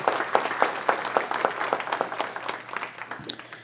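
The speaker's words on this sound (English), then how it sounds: "So everyone, give them a round of applause." A round of applause at a city council meeting after the invocation, many hands clapping at moderate distance in a steady, rapid patter that thins slightly toward the end.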